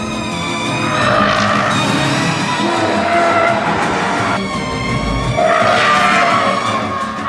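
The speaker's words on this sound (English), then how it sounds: "So now, here comes the Subaru." A Subaru Impreza WRX STI rally car drives hard and skids, loud engine revving with tire squeal swelling in two waves, close and continuous, with no talk over it.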